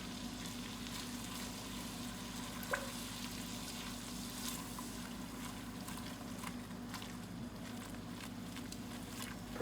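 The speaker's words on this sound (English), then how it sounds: "We need to cool this down, so I'm gonna add some heavy whipping cream." Heavy whipping cream poured into near-burning hot butter in a pan sizzles and fries steadily, a constant faint crackle with light stirring and no speech.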